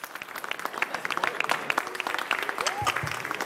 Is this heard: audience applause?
yes